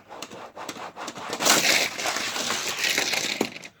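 Crunching, scraping impact of a stock car crashing in a NASCAR racing video game during the Coca-Cola 600, a burst of grinding debris noise with clattering hits that fades at the end.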